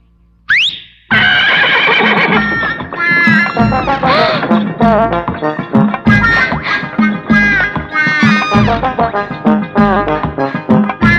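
A horse gives a loud, close whinny that breaks into repeated neighing calls, with rhythmic clattering running beneath them.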